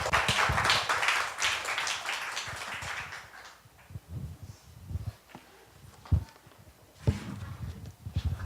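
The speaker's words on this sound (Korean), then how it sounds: "목사님 박수로 또 환영합니다" Church congregation applauding to welcome a pastor, loud dense clapping at first that thins into scattered claps and knocks, then a few sharper bursts near the end.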